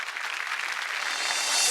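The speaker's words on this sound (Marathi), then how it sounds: "एकदा जोरदार टाळ्या होऊन जाऊ दे" A studio audience on a Marathi women's game show bursts into dense, even applause that holds steady and grows slightly louder toward the end of a short burst.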